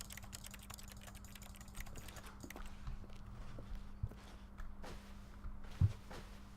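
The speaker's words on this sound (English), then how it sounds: "If I left click its keyboard." Computer keyboard keys clicking in The Stanley Parable, a steady stream of light taps with a few louder strikes, over a low hum with no talking.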